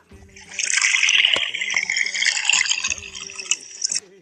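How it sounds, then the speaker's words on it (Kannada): A hollow, gurgling rush of flowing water with occasional drips and knocks, steady and close, heard through a pipe or opening. "ಇವಾಗ ನೀರು ಸೌಂಡ್ ಯಾವ ಥರ ಬರುತ್ತೆ ಅಂತ ತೋರಿಸ್ತೀನಿ ನೋಡಿ"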